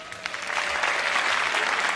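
Dense, continuous clapping from an audience at a comedy show, swelling quickly from scattered claps into full applause and holding loud and steady for about two seconds.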